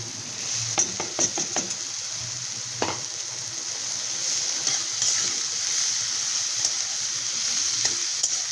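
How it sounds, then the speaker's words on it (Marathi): Capsicum goes into a hot pan with onion-garlic masala and soy sauce, setting off a loud, steady sizzle, with a few sharp stirring clinks near the start. "एक चमचा सोया आणि यामध्ये आता शिमला मिरची टाकून घेऊया"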